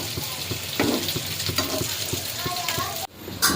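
Fish pieces frying in hot oil, a steady loud sizzle with occasional stirring clinks and scrapes, cut briefly near the end before the crackle resumes.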